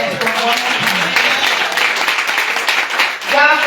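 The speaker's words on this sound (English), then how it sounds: "Clap your hands for one more time." A church congregation claps hands loudly and continuously, a dense, even roar of applause with a brief voice rising near the end.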